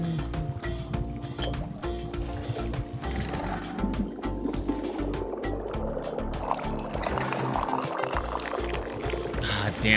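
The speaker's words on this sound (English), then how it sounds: "we pour it down into the pyramid, and then we go get a clean cup" Liquid pouring into a pyramid in the video game Wanderstop, a steady splashing trickle running the full length under a bed of soft game music, with no talk.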